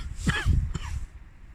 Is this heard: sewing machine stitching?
no